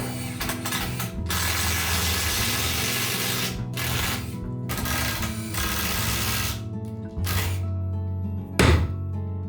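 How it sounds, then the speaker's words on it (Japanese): A ratchet wrench tightens a bolt through a joint in thick hinoki cypress boards. It gives long runs of rapid mechanical clicking with short pauses between strokes and a final clunk. "こういう風にお互いにボルトを通してやってキーの中で締め付けてやる"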